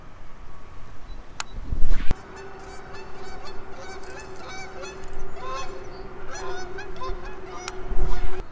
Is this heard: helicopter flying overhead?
no